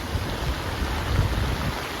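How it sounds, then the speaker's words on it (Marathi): Strong wind gusts past a makeshift hut in a rural field during a rainstorm, a continuous low roar and buffeting rumble close to the microphone with no voices. "इकडून जोरदार वारा येतोय"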